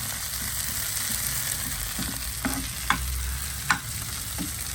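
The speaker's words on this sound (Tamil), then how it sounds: "தக்காளியை போடுவோம். தக்காளி நல்லா கறிவட்டும்." Tomatoes frying in a pan for chutney give a continuous close sizzle, broken by occasional stirring scrapes and a couple of sharper clinks.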